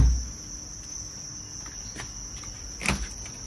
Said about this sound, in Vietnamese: Đây dế đây.